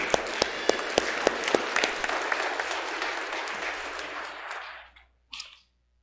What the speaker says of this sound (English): Let's add our applause for these leaders.